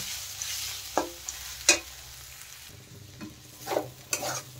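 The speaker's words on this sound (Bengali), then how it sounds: "ভাজতে ভাজতে কিন্তু মোচা থেকে তেল ছেড়ে দেবে, তখন বুঝবেন যে মোচা ভাজা হয়ে গেছে।" Banana flower frying in oil in a pan gives a steady, fairly soft sizzle, broken by several sharp scraping clicks from stirring. There is no talk.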